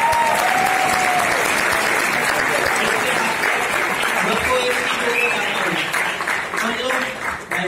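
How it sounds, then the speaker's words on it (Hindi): Applause from a large audience at a motivational business seminar, dense and sustained at close range, steady throughout with scattered cheering and voices mixed into the clapping. "तालियां होनी चाहिए।"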